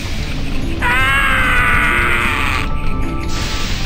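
A game character in The Elder Scrolls Adventures: Redguard lets out a loud, sustained scream of about two seconds, with a rough, strained voice cutting above steady background sound.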